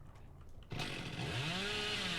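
The killer's chainsaw in Dead by Daylight kicks in abruptly after a quiet moment and revs loud and steady, its pitch rising and sweeping as it runs on without a break.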